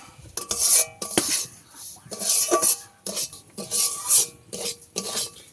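A metal spoon scrapes and stirs semolina repeatedly against a pan as it fries, rhythmic rasping strokes close by, with no talking.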